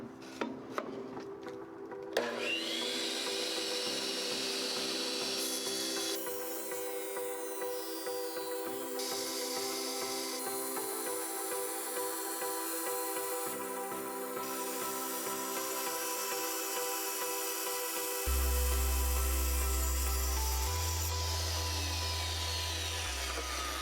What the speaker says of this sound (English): let's plug these saws in. Cut some porcelain planks.